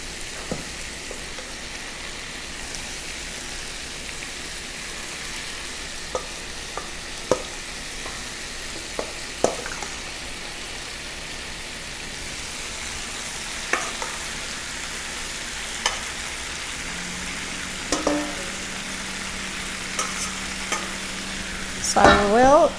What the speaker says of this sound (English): So we'll just stir fry this for about 3 minutes until the steak pieces are done.